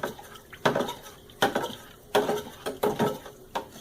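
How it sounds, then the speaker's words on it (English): Stirring a few drops of Power Scour into hot tap water in a pot: a series of sharp knocks and scrapes of the stirring utensil against the pot, irregular and close, with no voices. "I'm just going to stir it up a little bit."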